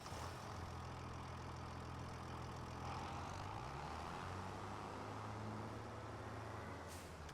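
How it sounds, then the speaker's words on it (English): A tractor engine in Farming Simulator 25 runs as a continuous low diesel rumble with a steady drone, its pitch shifting slightly midway, and a short hiss near the end. "Let's go ahead and hop into this tractor here."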